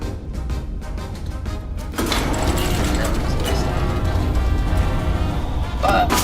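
Heavy gun turret elevation gear in the game Iron Nest, a steady mechanical grinding and clicking ratchet that grows louder and denser after a brief quieter start, running continuously at close range.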